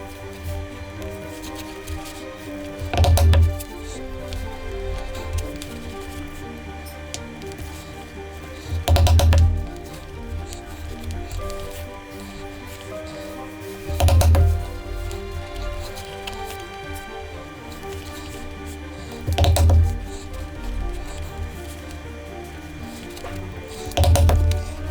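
Holes being punched in a leather strap for a handbag, heavy mallet blows landing at a slow, regular pace of about one every five or six seconds, loud and close.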